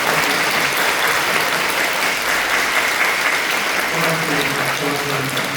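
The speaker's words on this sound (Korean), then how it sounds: "우리 뜨겁게 박수를 전합니다." Warm applause from a church congregation after worship, a dense steady clapping that fills the whole stretch at even loudness, with faint voices mixed in underneath toward the end.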